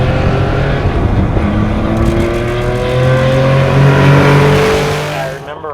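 A 1974 Porsche 911 Carrera RS engine runs loud and close, a harmonic flat-six drone that climbs and falls in pitch as it revs, then eases off near the end.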